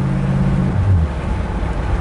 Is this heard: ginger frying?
no